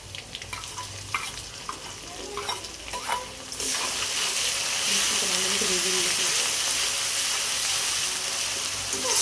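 Masala spices for chicken khichuri cooking in a pan with salt: scraping stirring sounds at first, then a loud, sustained sizzle of frying takes over and continues to the end.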